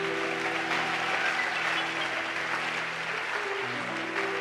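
A church congregation applauds in a steady, sustained wash of clapping, with sustained organ or keyboard chords underneath and little talk.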